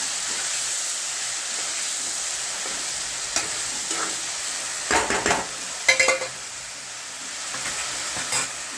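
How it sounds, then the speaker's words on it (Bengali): Ginger, cumin, garlic and chili paste sizzle steadily in a hot pan during sautéing, with a broad hiss throughout and a few sharper spatters and stirring scrapes partway through. "তো দিয়ে পেস্টটা ভালো করে কষাবো।"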